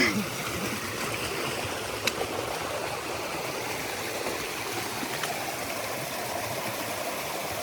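A stream on the Appalachian Trail, swollen with rainwater from the night before, rushes in a steady, dense roar throughout, close by and constant.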